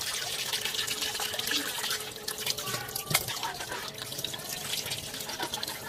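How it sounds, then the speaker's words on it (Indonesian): Running tap water splashes and drips as parts of a Cosmos CJ-3910 slow juicer are rinsed and scrubbed with a brush, a steady close wash with small scraping knocks and no speech. "Intinya dibilas dan disikat sampai tidak ada sisa-sisa, bersih dari sisa buah sayuran."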